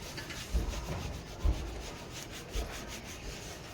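A scrubber rubs over a washbasin during cleaning, making a continuous close, moderately loud scrubbing with a few heavier strokes standing out.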